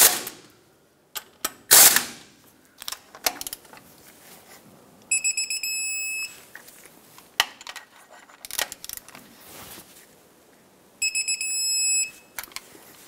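Ratcheting torque wrench clicks as front brake caliper bolts are tightened to spec on a 2008-2010 Ford F-450 Super Duty, with bursts of quick metallic ratchet clatter and two sustained bright buzzing tones in a quiet garage.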